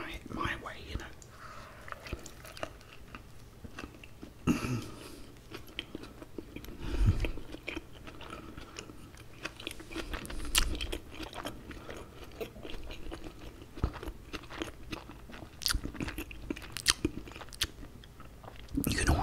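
Close-up chewing and biting of a homemade burger with seasoned patties, wet crunchy mouth sounds and soft bites recurring irregularly, with faint whispering underneath.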